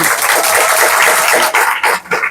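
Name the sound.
audience clapping loudly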